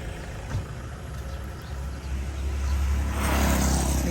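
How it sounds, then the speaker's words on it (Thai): A garbage truck idles outside a house while the home is being cleared of old, dusty belongings, its low engine rumble steady at first and then growing somewhat louder and closer toward the end. "รอ รถขยะมาเก็บ"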